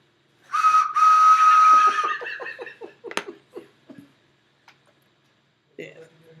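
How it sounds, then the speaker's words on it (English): A toy choo-choo train whistle gives a sustained tooting blast, then a run of rapid short chirps tapering off, followed by laughter and a brief voice. "Are you trying to pull the choo-choo whistle?"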